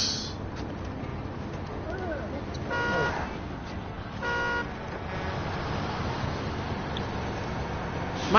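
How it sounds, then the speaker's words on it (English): A small vehicle's horn in a video game gives two short honks over a constant engine and road rumble. "Mine's got a puny horn."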